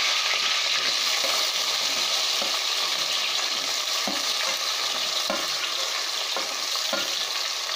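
Fenugreek seeds, garlic cloves, slit green chilies and chopped shallots sizzle in hot oil in a pan for a Kerala coconut-milk fish curry, a steady loud frying hiss with occasional stirring scrapes and no talk.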